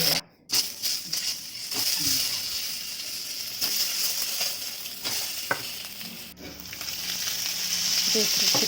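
Eggs and potatoes with turmeric and salt frying in hot oil, a steady loud sizzle lasting throughout with occasional stirring scrapes, close up and no talking.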